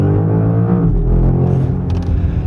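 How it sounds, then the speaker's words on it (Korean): A 727-horsepower BMW M5 plug-in hybrid with a V8 accelerates hard, giving a loud, close, continuous deep engine roar that holds steady for a couple of seconds with no talking. "지금처럼 가속 페달을 꾹 밟으시면"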